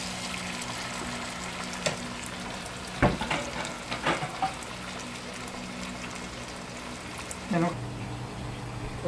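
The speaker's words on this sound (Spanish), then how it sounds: "Ya la vamos a dejar que se fría" Garlic fries in a pan with a steady, fairly loud sizzle, broken by occasional clinks and scrapes of a utensil against the pan.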